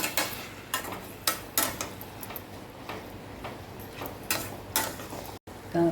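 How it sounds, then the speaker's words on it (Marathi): Potato sautéed with tomato in a pan for fish curry: sharp metallic clinks and taps of a spatula against the pan, irregular and close, over a low frying hiss. "एक बटाटा मी घेतलेला आहे तोही घालते याच्यावर तर मी परतून घेते चांगलं"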